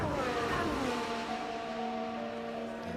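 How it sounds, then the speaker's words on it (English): Turbocharged hybrid Formula One race car at the Australian Grand Prix, its engine note sweeping and then holding a steady high whine, loud and close with no one talking. "And the sound of the turbocharged engine"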